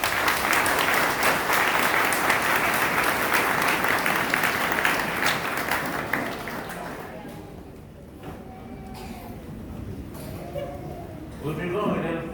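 A church congregation at a Baptist pastor's installation service applauds loudly and steadily, then the clapping thins out and fades, leaving quieter room sounds with a few scattered claps near the end.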